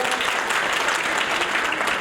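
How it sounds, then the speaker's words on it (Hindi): A crowd at a political rally applauds with steady, dense clapping that holds at an even loud level throughout. "एक बार जोरदार तालियां दे नाल"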